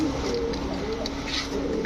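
Black Dauka pigeons, a male and a female, give low steady cooing close by, a soft continuous murmur with no talk over it.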